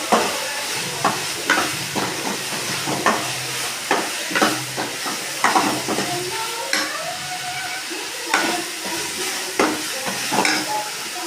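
Onion and tomato sauté in a pan, giving a soft sizzle with rhythmic stirring scrapes and clinks repeating every second or so, close and moderate in volume.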